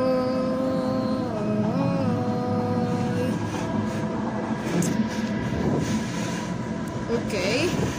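A train runs on rails at Pardubice main station, a steady rumble with squealing, gliding wheel tones nearby as someone talks over the noise.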